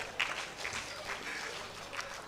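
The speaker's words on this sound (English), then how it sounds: "A round of applause for Shell." Applause at an evening fellowship conferment ceremony, a soft steady patter of many hands clapping heard from a distance, faint throughout.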